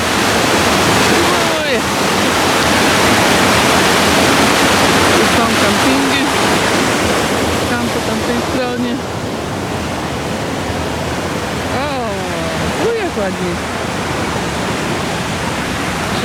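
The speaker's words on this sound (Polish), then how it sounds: "Zobaczymy, czy dojdę tam do tego wodospadu." Broad, steady roar of a waterfall in northern Sweden, loud and close throughout, with a voice speaking briefly over the rushing water.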